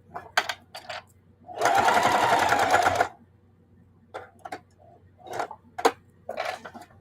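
A sewing machine stitching a Christmas table runner runs in one steady loud burst of about a second and a half, with scattered clicks and handling taps from the fabric and machine before and after.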